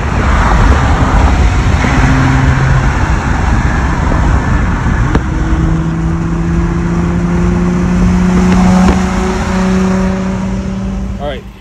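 A Nissan 350Z drives along with a steady engine drone and road noise, and its pitch rises as it accelerates partway through, while a person talks over it.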